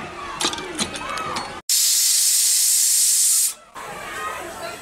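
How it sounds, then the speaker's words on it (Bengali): A pressure cooker on a gas stove, cooking Bengali rui fish curry, lets out one long, loud, steady whistle of hissing steam lasting about two seconds, set between quieter kitchen noise. "একটা সিটি পড়ে গেছে"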